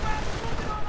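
A bombing run in a real-time strategy video game match, a dense rumbling barrage of explosions and gunfire packed into under a second, loud and continuous.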